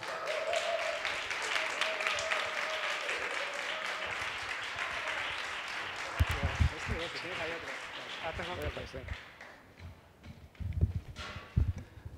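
Audience applause breaks out at the close of a presentation in a Spanish arts mediation and research event, a dense steady wash of clapping that thins out over several seconds with a few louder scattered claps near the end.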